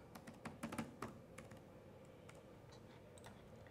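Quick bursts of keystrokes as a password is typed on a computer keyboard, clustered in the first second and then sparser, fainter taps over a quiet room background.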